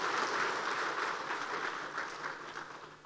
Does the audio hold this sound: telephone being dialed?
no